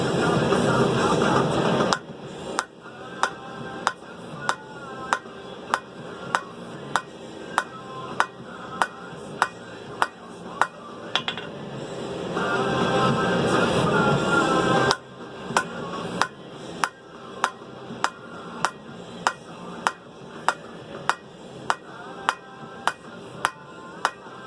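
Steel bar hammered to eight sides for V-bit bolt jaw tongs: loud, sharp metallic hammer blows ring out in a fast regular rhythm, broken by a couple of bursts of roaring forge or grinder noise.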